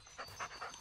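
A dog pants in quick rhythmic bursts, fairly close, with steady background ambience in the Blair Witch horror video game.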